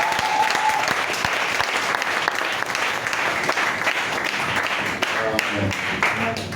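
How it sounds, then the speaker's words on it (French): A church congregation applauding in acclamation of Jesus Christ during a worship service, dense sustained clapping from many hands filling the room at steady loudness throughout, with voices faintly mixed in. "Acclamons le Seigneur Jésus-Christ"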